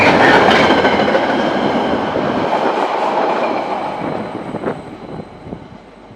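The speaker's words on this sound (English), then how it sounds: "DFB 7307 came speeding by with test train B69." DFB 7307 locomotive hauling a test train speeds past on the line. A loud rushing roar and wheel clatter close by slowly fade as it moves away, with no voices.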